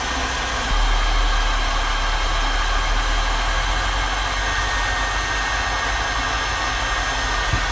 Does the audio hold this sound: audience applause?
no